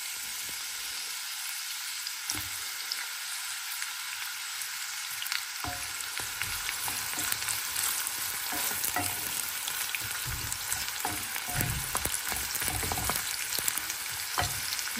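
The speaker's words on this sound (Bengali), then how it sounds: "তেল গরম হয়ে গেছে, এখন আমি পেঁয়াজ আর ধরে নেবো" Onions dropped into hot oil for a simple fried bhaji with green chillies: after a quiet start, a sudden burst of sizzling turns into a steady, crackling fry with scattered pops and stirring.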